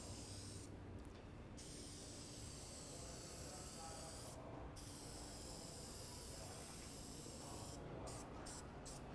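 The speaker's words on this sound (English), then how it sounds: "I'm just gently going to go ahead and spray it right on the" Several short hissing bursts of an aerosol spray can spraying onto an engine cover of a Porsche 911 (993), two quick sprays at the start, one in the middle, then a rapid series near the end.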